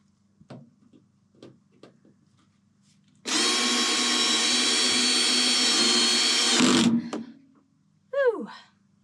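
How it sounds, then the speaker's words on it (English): A power drill whirs loudly and continuously for a few seconds while fitting plywood ceiling cladding near insulation in a van roof, then stops, with a few soft knocks before and a short vocal sound after. "Careful with the drill and the insulation."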